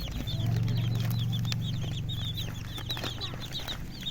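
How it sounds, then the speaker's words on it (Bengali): Farm chickens, asil and desi breeds, cluck in a steady chatter as they gather to feed on flour, with a low rumble beneath the birds. "মুরগিগুলো দেখতে পাচ্ছ এই যে খাওয়ার জন্য অলরেডি চলে এসেছে"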